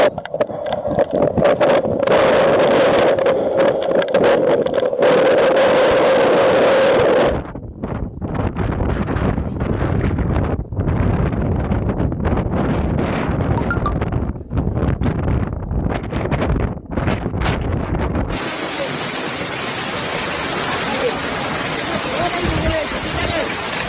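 A violent windstorm in China batters the microphone with a steady, loud roar and gusting rush. Rustling and a brief high tone come through toward the end.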